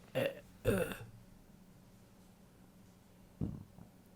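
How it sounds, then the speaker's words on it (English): A burp during a podcast recording: two short, loud throaty bursts close to the microphone in the first second, then a quieter gurgling one near the end over low background hum. "Ew, what was that? Burp."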